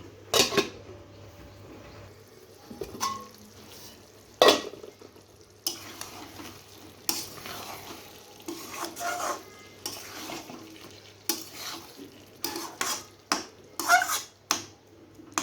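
Chicken curry fries in a pan with a low sizzle while a spoon stirs it, giving repeated loud metallic scrapes and knocks against the pan in irregular bursts, with no talking.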